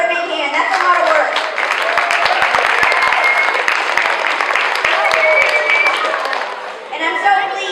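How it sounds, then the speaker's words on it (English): At a school family fun night, an audience gives Mrs. Jean a big hand. Loud, sustained clapping fills the room, with scattered voices and children's chatter mixed in, before it tapers off near the end. "can we give her a big hand?"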